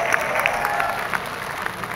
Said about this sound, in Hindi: पुरुष ताली बजा रहे हैं